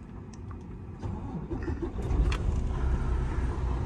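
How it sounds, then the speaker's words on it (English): A Class A semi truck engine turns over and settles into a steady low diesel rumble that builds and holds, loud and close, with no talking. "So when we start the truck up,"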